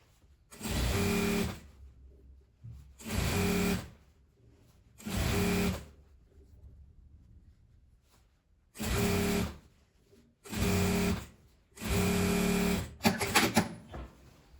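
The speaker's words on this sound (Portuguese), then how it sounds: "Vou passar a costura aqui na beiradinha mesmo." A sewing machine stitches along the edge of a beret in six short bursts of rapid whirring separated by quiet pauses, the last run ending in a brief mechanical rattle.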